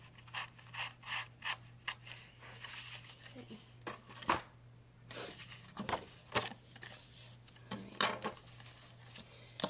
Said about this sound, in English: I'm going to just use my handy dandy sanding block.